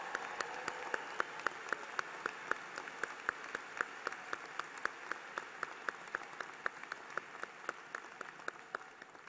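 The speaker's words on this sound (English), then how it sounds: "Please, let's give them a big round of applause." At a university commencement ceremony, an audience applauds faculty and staff with sustained, even clapping from a large crowd, individual sharp claps standing out across a moderately loud, steady wash.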